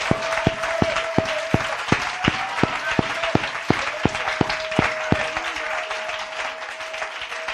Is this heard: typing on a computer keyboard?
no